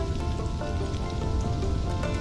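Rain falls steadily in the Stranded: Alien Dawn survival game, a dense, even patter with no breaks from start to finish.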